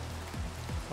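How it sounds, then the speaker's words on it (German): Steady rain falling in the Minecraft video game, a soft continuous hiss of drops on surfaces with faint low rumbling underneath, heard alone without any voices. "Und es regnet auch noch"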